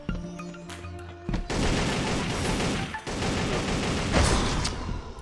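An AK rifle fires rapid automatic bursts in the battle royale game Geneshift, dense rattling gunfire that runs loud and almost continuously after a brief quieter opening.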